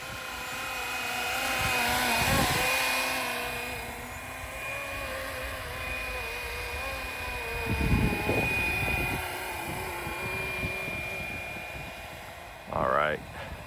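A Flywing Bell 206 V4 RC helicopter hovering and flying, its rotor whine steady and fairly close with swelling passes and a few bumps, while someone talks over it.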